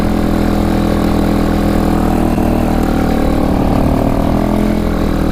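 A Kawasaki 4x4 utility vehicle, around 600 lb, rolls slowly on a road in low range with four-wheel drive engaged, its engine a steady, loud, low-pitched drone with no speech.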